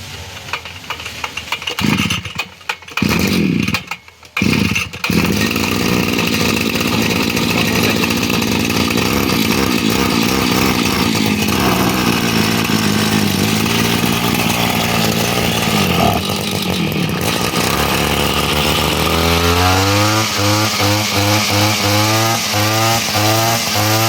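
A motorcycle engine with a misfiring fault, blamed on ethanol fuel, is cranked a few times, then catches and runs loud and close with a steady, rough idle that rises and falls near the end.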